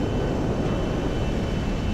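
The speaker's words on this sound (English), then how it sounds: "press E on your keyboard, and it will turn the propellers" A propeller aircraft in GTA 5 has its propellers turned for takeoff. A loud, steady engine roar fills the whole span, with no one speaking.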